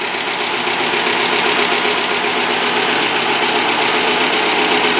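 A wrecked and rebuilt Dodge Challenger Shaker idles steadily after sitting for a while, its engine running close and loud with a constant ticking mixed into the rumble.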